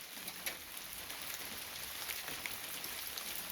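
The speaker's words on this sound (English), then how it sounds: "Yeah, it's raining." Steady rain falls outside, a soft continuous hiss with scattered pattering drops, heard alone at a moderate distance.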